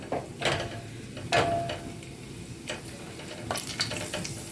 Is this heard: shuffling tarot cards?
no